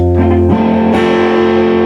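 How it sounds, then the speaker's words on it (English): A loud, heavily distorted guitar tone through a faulty Fender Pro Junior amplifier with a low output problem, buzzing and saturated, with sustained gritty chords and no talking. "Listen to the distortion on that."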